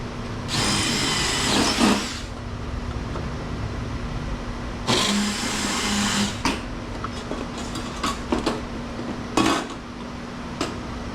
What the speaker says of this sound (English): We need to drill the fan out.